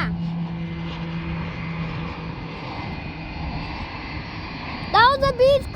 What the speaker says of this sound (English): That was a Beechcraft King Air!